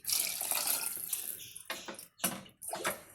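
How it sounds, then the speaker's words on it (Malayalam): Water pours from a glass into a cooking pot for fish curry in a bright, splashing stream, stops, then comes in several shorter bursts separated by brief pauses. "വെള്ളം ഒഴിച്ചു കൊടുക്കുന്നു അത് മിക്സ് ചെയ്യാം ഒരു ഗ്ലാസ് അല്ല രണ്ട് ഗ്ലാസ് വെള്ളം"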